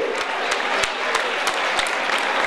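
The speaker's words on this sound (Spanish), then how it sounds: "Fuerte aplauso para estos campeones." A crowd at an urban mile race and half marathon applauds the category winners on the podium, with continuous close clapping punctuated by sharp individual claps.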